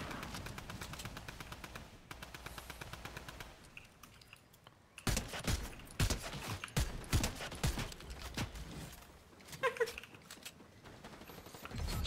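Video game gunfire, bursts of rapid automatic shots that grow louder midway and recur in clusters, mixed with clicking keyboard-like taps at a modest level.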